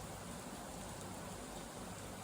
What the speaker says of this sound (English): while I was filming it just started raining and thundering like crazy, so you might hear that